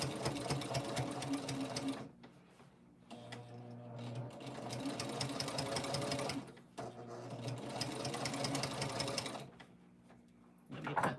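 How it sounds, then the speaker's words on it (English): A sewing machine stitches a back stitch at a quilt binding corner, running in three loud steady bursts with short pauses between them and faint talk during the gaps. "I'm gonna do a back stitch in that corner."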